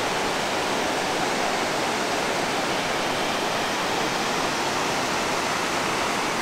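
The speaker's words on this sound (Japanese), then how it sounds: "この逆側はね、滝なんですよ。" Dense, unbroken roar of a waterfall along the Nishizawa Gorge hiking course, loud and close, a constant broadband rush with no pauses or voices.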